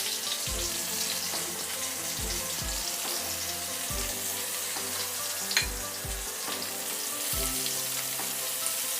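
Smoked fish (tinapa) fries steadily in a pan, a continuous moderate sizzle with repeated low thumps and clunks of the pan throughout, no talk.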